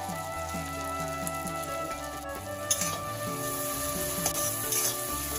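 Ground coriander and cumin powders sizzle steadily in a hot pan for a cauliflower roast, a soft continuous frying hiss with light stirring scrapes and a faint tonal hum running underneath.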